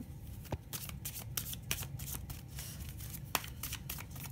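Tarot cards are shuffled up close, a rapid run of riffling flicks and papery slaps with a couple of sharper snaps, quiet and continuous with no talking.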